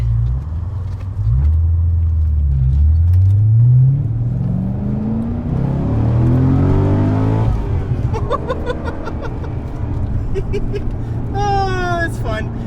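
A Chevrolet Corvette C6 Z06 accelerates hard on a canyon road. Its engine note climbs loudly through several gears with a steady roar, then fades into lighter, higher tones near the end.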